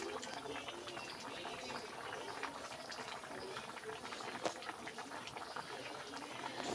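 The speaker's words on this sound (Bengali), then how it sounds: "কত সুন্দর আমাদের ঝোলের বলকটা উঠে গেছে" Thin fish and papaya curry broth with rohu boiling in a pot, a steady soft bubbling and gurgling heard close up, fairly quiet and continuous, with no talking.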